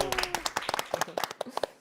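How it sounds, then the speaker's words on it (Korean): Audience clapping in a studio during a Korean Christian television program, a burst of sharp individual claps at an uneven brisk rhythm, close and clear, with a voice speaking over them. "박수."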